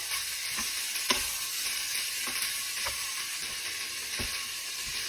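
Mixed vegetables with zucchini being stir-fried in a pan: a steady hiss of sizzling oil under repeated sharp clicks and scrapes of a utensil against the pan, coming every half second or so, close and unaccompanied by talk.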